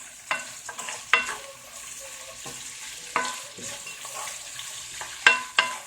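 Shrimp cooking in a pan and being stirred, heard as a soft background sizzle broken by several sharp scraping and clattering stirring strokes at irregular intervals, close and fairly loud.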